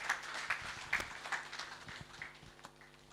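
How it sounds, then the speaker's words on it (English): Faint, scattered applause: a thin patter of clapping from a small crowd at a supplier development workshop in Gulu, in a quiet room, rising in a few brief bursts before thinning out. "Let's give a much bigger hand clap."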